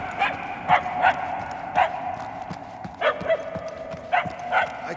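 A dog barks repeatedly in Guardians of the Galaxy, sharp single and paired barks spaced over a steady ambient background, moderately distant.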